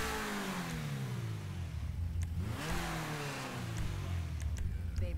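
Car engine revving in a loud, close drone, pitch climbing and falling through repeated throttle sweeps, with a few sharp clicks near the end.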